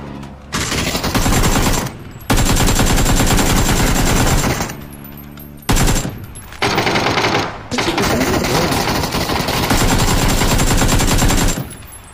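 Loud automatic gunfire from PUBG erupts in long rapid bursts separated by brief pauses, close and dominant, with excited players shouting in between.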